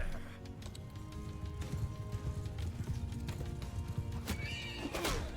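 In a medieval battle video game, a horse whinnies and hooves clip-clop amid busy combat noise and background music, with a sharp neigh near the end.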